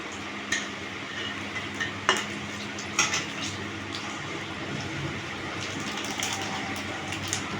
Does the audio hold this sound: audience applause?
no